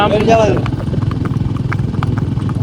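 Hooves of a mare clip-clop in a steady, rapid rhythm on a village road, close and loud throughout, with a brief vocal sound at the start.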